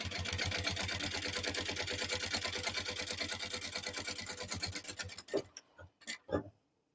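A sewing machine stitches a crossbody bag in a fast, steady run of needle strokes for about five seconds, then stops, leaving a few short mechanical clicks and handling noises.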